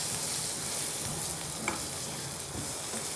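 Chili garlic potato wedges are tossed in a pan with butter, garam masala and coriander, a soft continuous sizzle under faint stirring scrapes, with one brief clink near the middle and no voices.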